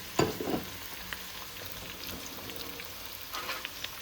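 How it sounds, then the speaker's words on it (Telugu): Onions frying in a small amount of hot oil during a large chicken curry cook, a steady close sizzle with a few louder bursts of stirring and scraping at the start and end. "సో ఆనియన్స్ ఫ్రై అవుతున్నాయి కదా"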